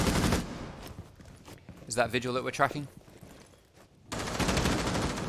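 Gunfire in a tactical shooter esports match comes as bursts of sharp shots at the start and again near the end, with a caster talking between them.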